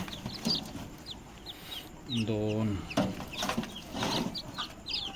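Native hen chicks peep in quick, high chirps scattered through the clip as they are handled and counted, with a louder harmonic cheep burst near the middle, someone speaking briefly over them.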